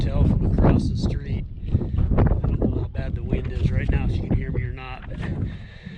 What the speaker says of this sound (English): I don't know how bad the wind is right now, if you can hear me or not.